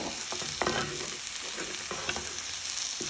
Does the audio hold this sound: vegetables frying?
yes